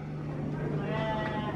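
A sheep bleats nearby at a farm where goats and ponies are kept, a short wavering call over steady outdoor background noise, with a person talking around it.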